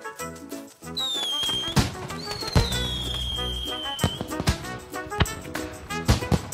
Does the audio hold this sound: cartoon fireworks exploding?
yes